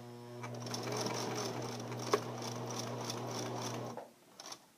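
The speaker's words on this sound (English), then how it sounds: "I'm starting to get close to the edge, so I'm going to use my hand wheel. And I'm ready to back stitch." A sewing machine back stitches a fabric seam with a steady, even whirring hum for about four seconds, then stops, leaving faint handling noises.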